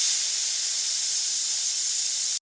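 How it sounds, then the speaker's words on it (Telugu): A pressure cooker cooking bottle gourd dal gives a loud, steady, high steam hiss throughout, cutting off abruptly at the end. "కుక్కర్లో 4-5 విజిల్స్ వచ్చే వరకు ఉడికించుకోవాలి"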